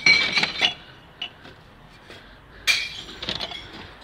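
Glass bottles clink and smash as they are dropped into a clear-glass recycling bin, with a cluster of crashes at the start and another sharp impact followed by rattling shards later.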